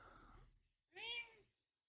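A cat gives a single short meow indoors, faint and close, after a brief stretch of quiet talk.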